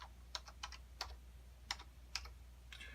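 Quick, crisp keystrokes on a computer keyboard come in short irregular bursts, close and quiet over a low background hum.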